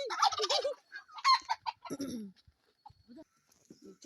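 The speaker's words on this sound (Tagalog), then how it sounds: "Pabo." A turkey gobbles loudly and close in a rural turkey pen, a burst of rapid warbling calls followed by a few quieter clucks and scattered fowl sounds.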